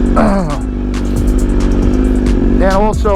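A motorcycle's exhaust revs loudly and steadily up close, its throaty roar rising in pitch at the start and again near the end.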